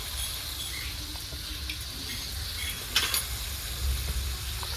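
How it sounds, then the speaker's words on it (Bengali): Spice paste frying lightly in a pan for an eggplant and hilsa fish dish, a soft steady sizzle with faint scraping stirs and a couple of brief clinks, close and without talk. "এখানে হালকা ভেজে নেবো মশলাটা"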